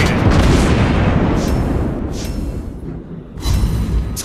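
Naval gun shells strike an enemy ship in World of Warships Blitz, a French tier 7 cruiser Algérie firing, with a loud booming impact, then rumbling decay and a second blast near the end.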